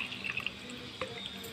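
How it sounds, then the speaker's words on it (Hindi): Water is poured from a glass into lentils for chana arbi dal, giving a soft, splashy trickle with a few distinct drips over a quiet kitchen background. "2 बड़े ग्लास से हम पानी डालेंगे इसमें"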